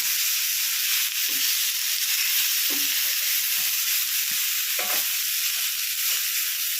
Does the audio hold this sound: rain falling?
no